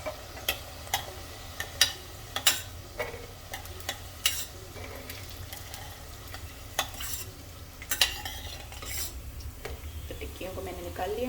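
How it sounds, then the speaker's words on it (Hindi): Besan tikkis fry in hot oil and are flipped, giving a steady close sizzle broken by sharp clinks and scrapes of the turning spoon against the pan. "इन्हें आगे पीछे करके अच्छे से फ्राई कर लेना है"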